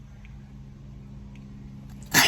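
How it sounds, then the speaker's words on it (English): A single sharp human sneeze bursts out near the end, loud and close, after a couple of seconds of quiet room tone. "And I sneeze."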